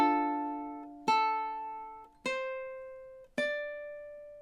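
Four plucked ukulele chords from a song ring out one after another at an even, slow pace, each struck clearly and left to decay, played alone and close.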